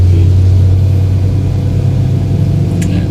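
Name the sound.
car engine revving as accelerator is pressed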